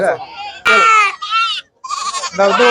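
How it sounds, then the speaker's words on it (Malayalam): Goats bleat loudly and repeatedly at a busy goat market in Vaniyamkulam, with several overlapping, wavering calls close by in quick succession. "ഇഷ്ടം പോലെ ആടുകളാ ഇത്"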